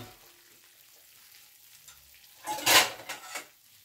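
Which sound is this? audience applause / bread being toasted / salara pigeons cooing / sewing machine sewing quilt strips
bread being toasted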